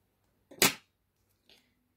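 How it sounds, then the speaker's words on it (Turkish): Scissors snipping yarn during crochet work: one sharp, close cut followed by a fainter second snip about a second later, in an otherwise quiet room. "ipimizi sabitleyip makasımı alıyorum"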